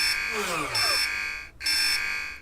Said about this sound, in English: as they pass through the store's door, the alarm goes off